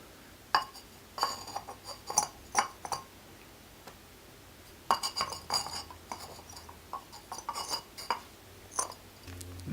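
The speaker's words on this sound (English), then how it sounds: "the first thing I'm going to do is add a couple of rocks, partially for drainage" Small rocks dropped into a plant pot for drainage while repotting a Mother of Thousands, producing scattered light clinks and clatters in short bursts separated by quiet pauses.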